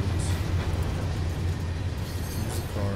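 Train cars roll past in the Train Simulator 2017 game, a steady loud rumble of wheels on track with rhythmic clatter and no break in the sound.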